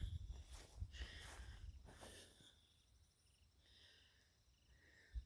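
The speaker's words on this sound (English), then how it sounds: "crickets in the middle of the day" Crickets chirp faintly in the middle of the day in short, high, shimmering trills against a quiet outdoor background, with a few soft rustles at the start.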